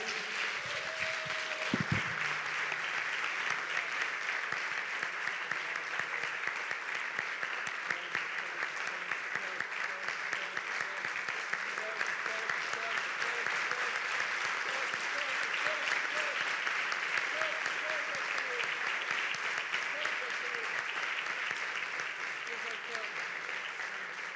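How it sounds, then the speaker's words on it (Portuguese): A church congregation applauds during a worship service, a long, steady wash of many hands clapping with no letup, while a voice speaks and faint music sounds underneath. "Você pode dar um aplauso para Jesus."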